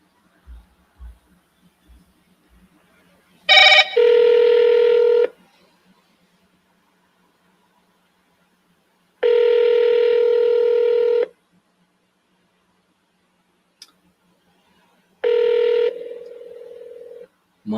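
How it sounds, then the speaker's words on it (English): Touch-tone telephone dialing a call: a handful of faint key beeps, then loud steady ringback tones repeating at intervals with long silent gaps between them. "let's call him again"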